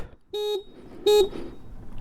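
Two short, loud horn beeps from a 2026 Yamaha EC-06 electric scooter, a fraction of a second apart, each a steady buzzy tone, followed by low idle.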